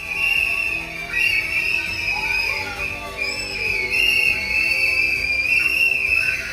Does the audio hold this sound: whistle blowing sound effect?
yes